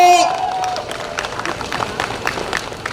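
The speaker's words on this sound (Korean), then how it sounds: "박수" A crowd at an election rally in Hamyang claps and cheers in a dense, steady patter of hand claps and crowd noise. A voice is heard briefly at the start.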